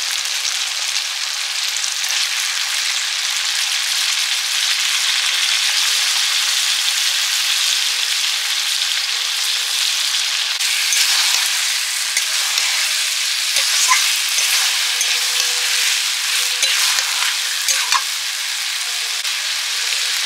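Meat sizzling and being stirred in a cooked-down spice masala in a pan for a luchi-and-meat dinner, a steady loud frying hiss running throughout, with stirring scrapes growing busier in the second half.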